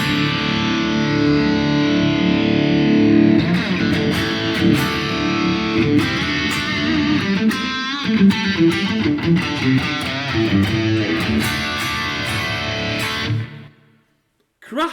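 Electric guitar played through a PV XXX amp profile on a Quad Cortex, with the first preamp valve changed from a 12AX7 to a 12AY7. Loud, heavily distorted chords and riffs ring continuously, then cut off near the end.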